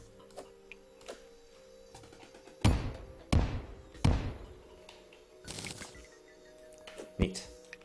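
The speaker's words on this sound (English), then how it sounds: "we are going to use some bombs here for sure" Bombs in Terraria thud and bounce, then burst in several sharp, separate explosions spaced a second or so apart, loud and close against quiet game ambience, with a voice talking in between.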